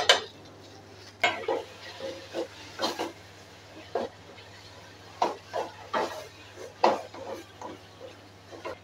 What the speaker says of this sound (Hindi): इसमें कीमे को भूनते हुए हम इसमें 2 टेबल स्पून दही शामिल करेंगे।